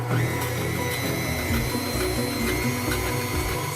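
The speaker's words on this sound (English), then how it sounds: "then we're gonna start the mixer" An electric mixer beats egg yolks with half a cup of sugar, a steady loud motor whir running continuously and close, with no talk over it.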